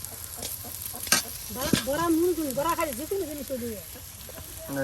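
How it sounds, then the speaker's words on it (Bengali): Lentil fritters (bora) sizzle and crackle as they fry in oil in a rural kitchen, a steady bubbling under close, animated talk. "সুন্দর করে বড়াগুলো একদম তেলে ভাজি ভাজি হয়ে যাচ্ছে।"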